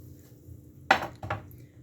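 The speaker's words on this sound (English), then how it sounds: "So I will add this can of cooked chickpeas in here" A can of cooked chickpeas knocks twice against a soup pot as it is tipped in, two distinct metallic clanks close together over a quiet kitchen background.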